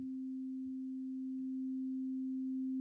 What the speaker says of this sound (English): it's actually a sine wave.